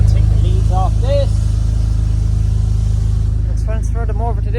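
A car engine idles steadily and loudly up close as a low continuous rumble, with a person talking briefly over it.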